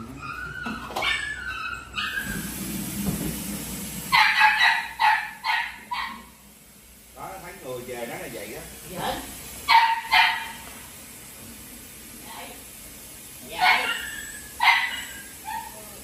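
A dog barks in short bursts and whimpers, with yips and cries spread across the clip at close range, in a home setting with faint background noise.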